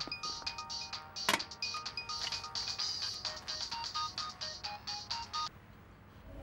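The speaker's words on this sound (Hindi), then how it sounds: "किसका फोन है?" A phone ringtone plays an electronic melody of quick bright tones at moderate distance, repeating for about five seconds before stopping, with no talk over it.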